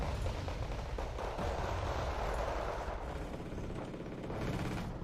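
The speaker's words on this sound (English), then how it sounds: "getting hit by a big mortar, the Prams 120s, right on top of them" A big 120mm mortar barrage lands on troops in Wargame: Red Dragon, heard as a steady, fairly distant wash of overlapping blasts and crackling impacts that rumbles on without a break.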